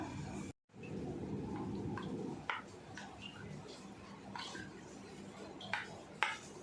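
A spoon clicks and taps against a bowl while mixing yogurt with sabudana (sago), producing faint, scattered clinks over low background noise.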